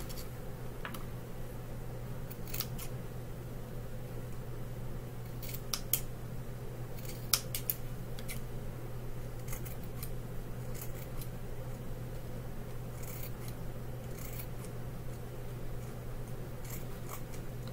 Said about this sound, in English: we're gonna cut just like this here around the edges